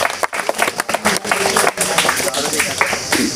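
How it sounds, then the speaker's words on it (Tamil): Listeners at an outdoor talk clap in sharp, scattered bursts that grow into a denser round of applause, with voices talking over it. "நல்லா கைத்தட்டுங்க ஒரு கரவொலி ஏற்படும்"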